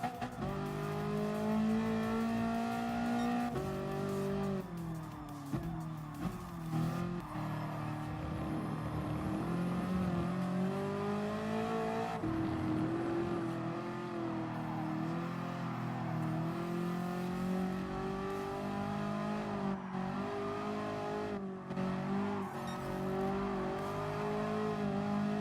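Sustained engine roar from the IsoRivolta Zagato VGT racing car in Gran Turismo Sport, rising and falling through gear changes as it accelerates and brakes around tight corners, loud and steady with no talking.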